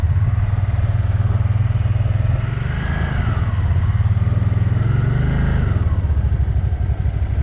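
A manual Can-Am Spyder engine idles with a steady low throb, then revs and pulls away in first gear, the pitch rising and dipping as it accelerates close by.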